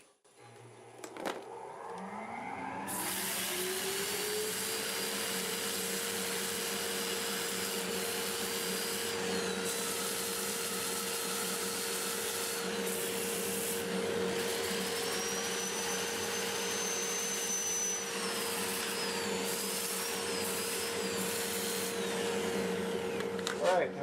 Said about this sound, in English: I'm going to get my dust collector going and sand it a little bit